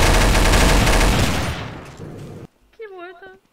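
Gunfire in Garry's Mod's Trouble in Terrorist Town mode, a loud rapid burst of automatic shots fading out, then a short spoken exclamation.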